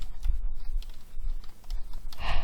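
Quick, uneven clicks and taps from fingers typing on a computer keyboard while entering Python code, close and fairly loud, with no talk over them.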